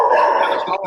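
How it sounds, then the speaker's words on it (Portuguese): A dog barks close by, a short yelping bark lasting about a second. "Voltou o cachorro."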